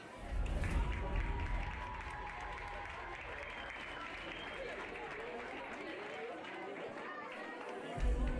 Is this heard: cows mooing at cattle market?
no